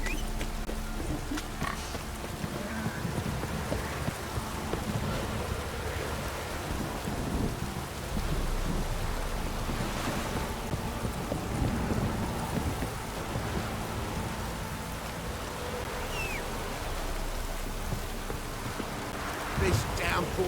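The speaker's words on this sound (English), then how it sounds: "This downpour's a bastard," Steady heavy rain pours down throughout in the video game The Witcher 3: Wild Hunt, a dense continuous hiss with faint rumbles beneath it.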